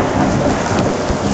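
Heavy rain pours steadily with a low thunder rumble underneath, a dense, loud downpour throughout with no voices.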